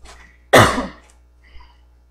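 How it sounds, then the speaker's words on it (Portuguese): A single harsh throat-clearing cough, close and loud, with a faint softer sound after it in an otherwise quiet room. "desculpa a gente pela tosse, minha garganta secou aqui"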